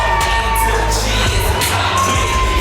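Wrestling crowd cheering and whooping as wrestlers walk to the ring, a loud, sustained roar with shouts and yells rising throughout, steady and close.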